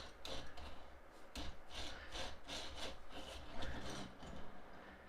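A Transformers Siege Impactor toy rolls on its four wheels across a surface, making a quiet, close, repetitive rubbing and rattling that moves back and forth without a break.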